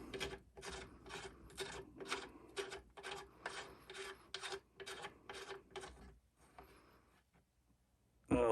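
A Schuster gas plug threads into an M1A rifle with about a dozen rhythmic metallic rasping turns, close and quiet, evenly spaced before stopping, then a brief louder knock at the end.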